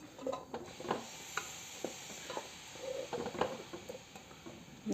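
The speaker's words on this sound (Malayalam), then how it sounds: "ഇനി ഇത് നല്ലപോലെ ഒന്ന് മിക്സ് ചെയ്ത് കൊടുത്തിട്ട് ഈ അരപ്പൊന്ന് ചൂടാവണേ" Ground coconut paste being stirred into a pumpkin and bean erissery in a pan, with repeated soft scraping and tapping strokes of a spoon at close range, steady and unhurried, no talking.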